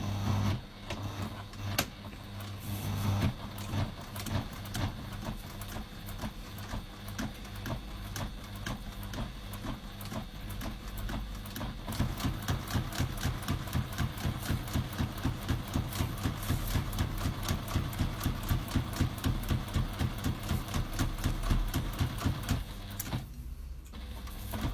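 Sewing machine running a line of stitching while making a tablet stand, a close, rapid mechanical chatter that starts unevenly and then settles into a fast, steady pulsing rhythm before stopping near the end.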